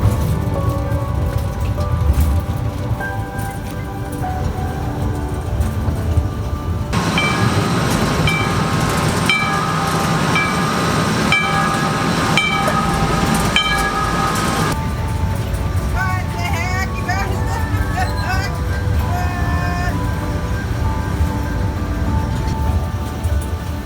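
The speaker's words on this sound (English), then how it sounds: "this cute little miniature train on these narrow tracks that takes you on a short little journey" A miniature train on narrow tracks at Three Valley Gap, British Columbia, rumbles and clatters steadily for the whole stretch, with a loud rhythmic wheel-clanking passage in the middle and squeaks later, close and continuous.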